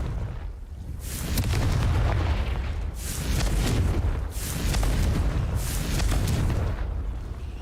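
Confringo blasting spell explosions in the Hogwarts Legacy video game, several loud booming blasts in a row, each swelling and fading, with no talk over them.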